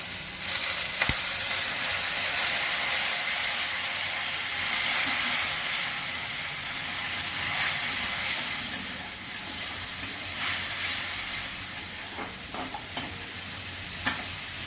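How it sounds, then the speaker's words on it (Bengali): Fried masala for a fish curry hisses and sizzles loudly in the pan as water is added, settling into a steady bubbling steam with occasional stirring clicks and clatter. "মশলা কষানো হয়ে গেছে, এবার আমি পরিমাণ মতো জল দিয়ে দেবো।"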